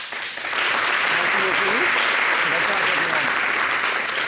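A studio audience on a French TV show breaks into sustained applause that swells within the first half second and holds steady and loud, with voices mixed into the clapping.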